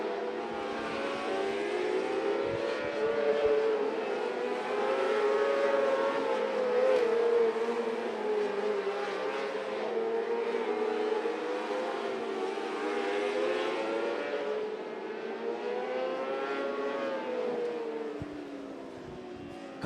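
A pack of Speed Mark 600 mini sprint cars races around a track, engines whining and revving continuously as they circle, loud and sustained with overlapping tones rising and falling.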